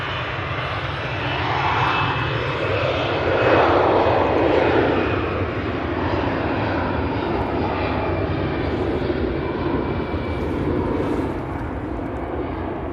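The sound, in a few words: EasyJet airliner to Malta at Manchester Airport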